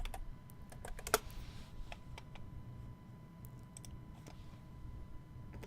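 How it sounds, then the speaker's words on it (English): Keys tapped on a computer keyboard in a quiet room, a scattering of soft irregular clicks with one sharper stroke, faint and close over a low steady background hum. "Let me just type in day after tomorrow."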